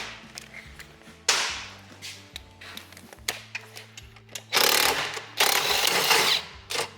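A small DeWalt nut driver backs out track adjusters. Scattered clicks and knocks lead into two louder whirring bursts near the end, close up with no voices.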